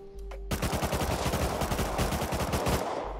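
Gunfire in the survival game Rust, a sustained rapid automatic burst of loud close shots in steady rhythm lasting about three seconds, preceded by a single isolated report, with no talk over it.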